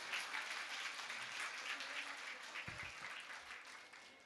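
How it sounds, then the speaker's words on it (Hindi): Audience applause at a Jain religious discourse gathering, a steady wash of clapping sustained throughout at moderate distance, with no distinct voices over it. "उन सभी के लिए एक बार जोरदार तालियां बजाइए"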